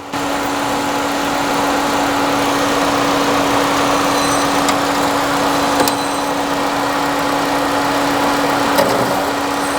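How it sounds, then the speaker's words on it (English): A Nissan Sentra idles steadily with its AC compressor running, a constant engine drone with a steady hum and a few faint clicks, alone with no talk. "So with the AC running, if you watch the gauges, you can see when the compressor cuts off and on."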